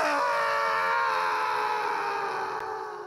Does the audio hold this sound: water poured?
no